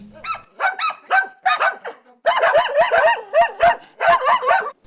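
Several dogs bark repeatedly in quick, overlapping bursts, loud and close, in a house shared with dozens of cats.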